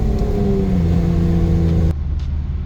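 Honda Accord fitted with a custom exhaust revving loudly through a downshift into third, a steady throaty engine drone that drops off sharply near the end as the revs fall.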